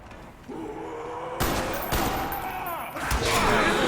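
Rapid bursts of gunfire from Call of Duty zombies on the Ascension map, with loud shots clustered and overlapping, close and punchy, along with a busy game soundscape.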